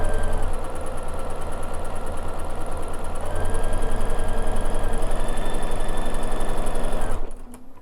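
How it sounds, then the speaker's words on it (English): Bernina sewing machine with an edge stitch foot stitching fabric in a fast, steady mechanical chatter, close and continuous for about seven seconds before stopping abruptly. "we just ride right up against the guide and we're just going to stitch"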